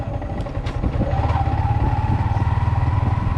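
A Yamaha MT 15 BS6 motorcycle engine lugs in third gear at low RPM, a close, steady rapid thumping pulse under road noise with no talk.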